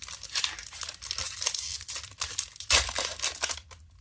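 A Magic: The Gathering Tarkir Dragonstorm booster pack torn open by hand, close crinkly foil wrapper crackling and ripping in several bursts, with a sharper tear partway through.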